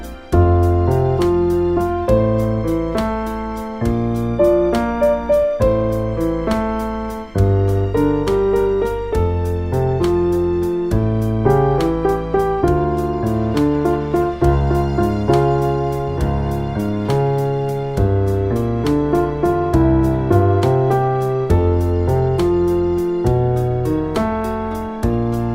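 A piano plays a section of a song: slow chords in both hands with a steady pulse, sustained and resonant, heard solo without any talk.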